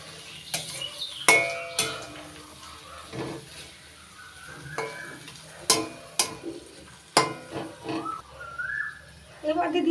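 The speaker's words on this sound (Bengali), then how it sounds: "ক্যাপসিকাম কুচি টমেটো কুচি নাড়াচাড়া করে মিশিয়ে নিচ্ছি ভালো করে" A spoon stirs chopped capsicum and tomato in a frying pan, added after beans for sabu pulao. There are irregular scraping clicks and clatters over a soft sizzle, loud at some moments and quiet between them.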